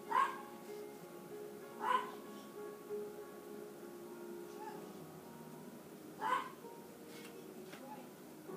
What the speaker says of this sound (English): She barks at literally nothing.